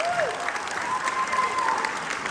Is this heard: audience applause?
yes